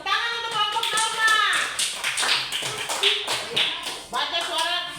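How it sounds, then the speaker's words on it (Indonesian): A classroom claps for a student group in quick, rhythmic bursts mixed with children's and adults' voices, the clapping coming in several short rounds over the talk. "Tepuk tangan untuk kelompok Norma."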